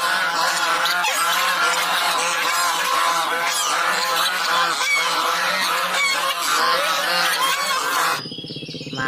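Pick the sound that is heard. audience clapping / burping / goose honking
goose honking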